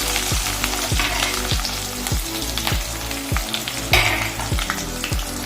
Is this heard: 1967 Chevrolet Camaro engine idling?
no